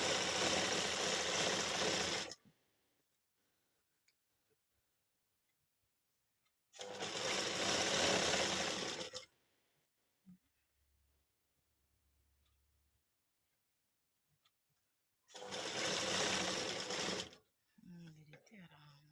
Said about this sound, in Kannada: ಇವಾಗ ಜಿಗ್ ಜಾಗ್ ಮಿಷಿನ್ ಇಲ್ದೇ ಇದರಲ್ಲಿ ನಾನು ಸ್ಟಿಚಿಂಗ್ ಮಾಡೋದು ತೋರಿಸ್ದೆ